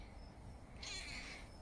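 A long-haired cat gives a single faint meow, rising then falling, partway through steady quiet outdoor background noise.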